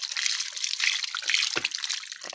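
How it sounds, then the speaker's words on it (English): Water runs steadily from a tap as hands are washed beneath it in a home kitchen after cutting meat, a close, continuous splashing trickle with brief gurgles and no talk. "Let me wash my hands here."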